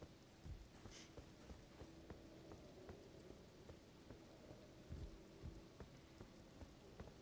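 Steady rain patters continuously in the video game Elden Ring, with occasional heavier drops and soft thuds, fairly quiet and without voices.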